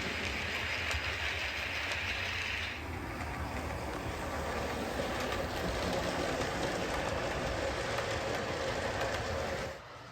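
Faint, steady mechanical running of a model train locomotive moving alone without its carriages, a continuous low rumble with soft clicking and no voices.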